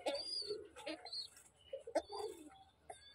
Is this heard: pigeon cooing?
yes